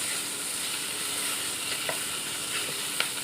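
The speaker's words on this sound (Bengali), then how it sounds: "আমার মাছের মাথাটা ভাজা হয়ে গেল।" A fish head sizzles steadily in hot oil in a frying pan, a dense continuous crackle with a couple of small pops near the end, close by and alone.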